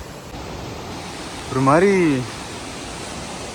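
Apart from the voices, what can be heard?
water flowing at Keralamkundu waterfalls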